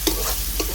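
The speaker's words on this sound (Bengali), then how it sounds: "মশলাটাকে মিশিয়ে নেব।" Spice paste of green chilli, cumin and coriander powder stirred in a hot pan for rajma, with close, short scraping strokes over a steady sizzle.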